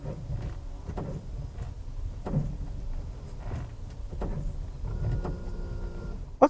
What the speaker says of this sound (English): Then you get that drilling sound.